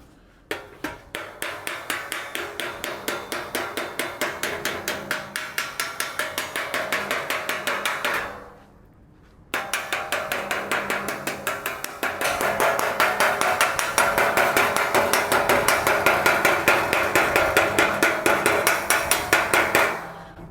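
Rapid, steady metallic hammer blows from a trailer ball on a 1938 Cadillac's sheet metal ring out close by, shifting in tone between bright dings and duller clangs, with a brief pause midway.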